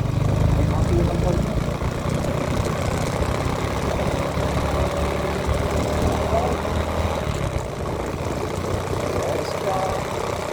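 A Honda XRM 125fi motorcycle engine runs steadily at a low rumble throughout, with a voice speaking over it.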